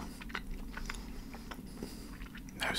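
Soft, close chewing and squishing of watermelon-flavoured Sour Patch gummy candy, a series of small moist bites and mouth sounds with no talking.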